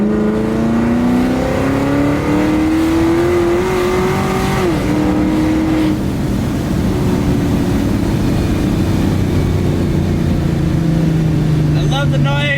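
A procharged Chevy SS engine roaring and revving hard, its pitch rising steadily then dropping and settling into a loud continuous drone, close and dominant throughout.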